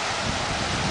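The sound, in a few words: wind on a rainy day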